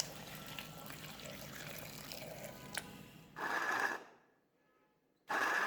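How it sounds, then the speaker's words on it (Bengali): A cup of water is poured into a blender jar holding raw mango pieces, making a soft steady trickle. Louder bursts of flowing water follow, with a brief near-silence between them. "পানি দিচ্ছি এক কাপ"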